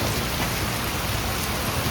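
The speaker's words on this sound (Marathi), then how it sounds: "पाऊस पडतोय" A steady, dense downpour of rain hisses loudly and continuously nearby, with no voices over it.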